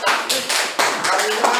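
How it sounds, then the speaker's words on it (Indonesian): Applause in a classroom during a teaching session, with broadband hand clapping from a group filling the whole moment, fairly steady with slight surges, and some voices mixed in. "Tepuk tangan."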